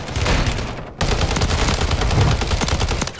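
Haymaker shotgun fire in Call of Duty, loud rapid repeated blasts in a dense burst, briefly pausing before resuming a steady barrage of close gunfire with no talking.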